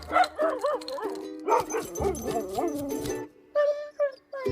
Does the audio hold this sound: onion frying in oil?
no